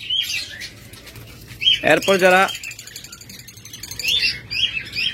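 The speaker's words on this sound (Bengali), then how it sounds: "এটা হলো লুটিনো রেড আই ফিশার জোড়া, চমৎকার pair lutino red eye fisher" Lutino red-eye Fischer's lovebird pair chirping at close range in short high bursts at the start and end, with someone talking loudly through the middle.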